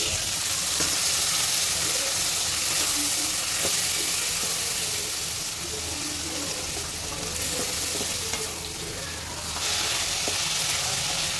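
Water hits spices of turmeric and chili frying for a rohu fish curry, setting off a loud, steady sizzle and hiss that swells briefly near the end, with nobody talking.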